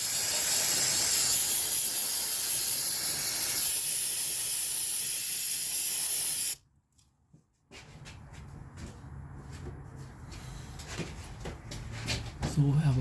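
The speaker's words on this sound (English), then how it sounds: "I'm gonna hit the mating surface to the cylinder head with some brake cleaner" Brake cleaner sprays onto the cylinder head mating surface of a Honda Civic 1.7 VTEC engine in a loud, steady hiss that cuts off abruptly, followed by quieter shuffling and handling sounds.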